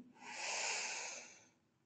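A single slow, deep inhalation through the nose during a sophrology relaxation exercise, soft and close, swelling and then fading over about a second and a half with no talking.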